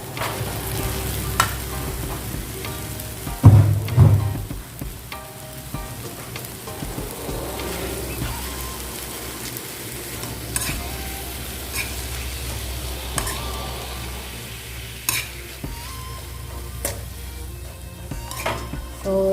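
Ground pork frying and being stirred in a pan for sautéed bitter melon, a steady crackling sizzle throughout with occasional scrapes and clinks of the utensil against the pan, a brief louder clatter early on, no talking.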